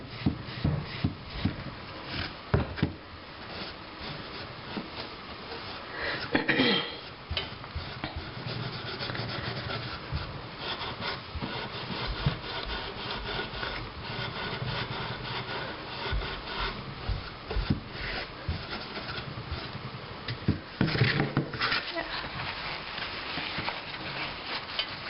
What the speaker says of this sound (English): while it's wet you can just kind of gently scrub away any rust on the anvil too